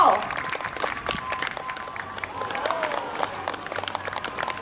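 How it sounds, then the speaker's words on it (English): Crowd applause and scattered cheers from an audience at a sea lion show for Java, steady clapping filling the whole stretch at moderate volume with a few sharper whoops, and no talk over it. "put those hands together, cheer him on"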